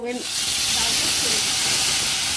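Bottle gourd dropped into hot oil in a wok over a spice tempering bursts into a loud, continuous hiss right after a brief voice at the start.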